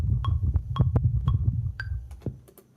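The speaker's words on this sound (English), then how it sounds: "That's the sound of the winds of Mars." A low, muffled rumble of wind on Mars, recorded by NASA's Perseverance rover, runs under a steady metronome that ticks sharply about twice per second before the sound fades out.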